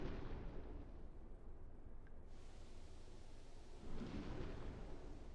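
Torpedoes fired from U-boat tubes in the submarine game Uboat make a sustained low rushing roar and hiss, steady throughout with a brief swell near the end, heard alone at moderate level.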